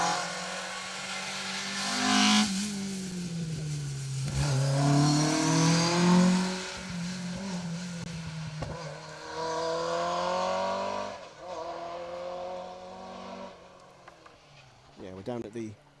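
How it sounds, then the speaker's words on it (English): A white rear-wheel-drive Mark III Vauxhall Astra rally car passes on an asphalt stage of Rally Ceredigion, engine rising and falling through gear changes as it approaches and fades, with commentators talking over it. "The Mark III Astra, rear-wheel drive of Jeff Glover going through"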